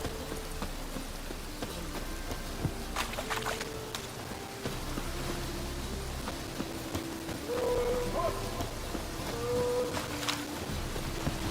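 Rainfall in The Witcher 3 game world, a steady soft hiss of drops and patter on surfaces continuing throughout, low and even, with faint ambient game sounds mixed in and no talking.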